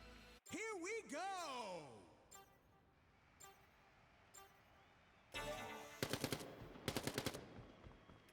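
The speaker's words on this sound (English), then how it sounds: "Looks like Stafe is pulling the SMG, shooting down cover here" Submachine gun fire in the competitive shooter Quantum League during a 1v1 championship match, heard as two loud rapid bursts of automatic shots late in the clip, following sweeping whooshing effects and voice sounds.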